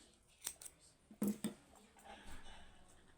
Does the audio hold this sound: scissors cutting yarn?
yes